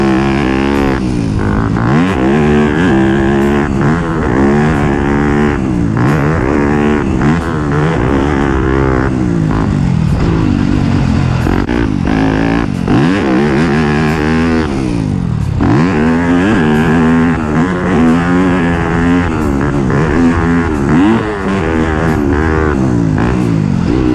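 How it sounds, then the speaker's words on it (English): A motorcycle engine runs loud and steady throughout a ride, revving up and down in repeated rising and falling sweeps with no voices. "I do have a few clips of riding that I'll throw in the video, just so you can kind of get an idea of this exact bike."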